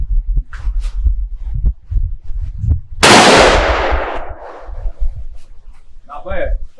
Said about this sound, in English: I'm going to shoot that block right there by that tree.